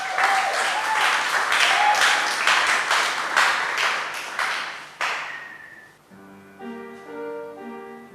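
An audience at a choir's end-of-season concert in Accra claps in a dense, lively burst for about six seconds, then fades out as soft keyboard notes begin.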